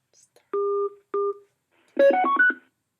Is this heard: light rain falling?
no